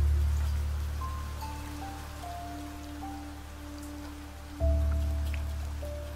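Steady rain pours in the video game Niche, a dense hiss of drops on surfaces, with a soft low game music line of sustained tones drifting beneath and a sudden swell in loudness near the end.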